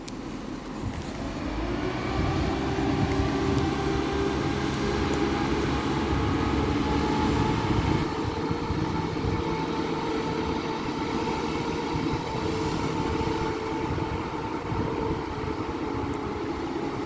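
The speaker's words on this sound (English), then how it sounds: "And now departing is 17453 working the 1324 Northern Service to Sheffield." A Northern passenger train pulls out of Doncaster station on the East Coast Main Line, its steady low engine rumble and rolling wheel noise filling the platform continuously, loud and close, with no voices heard.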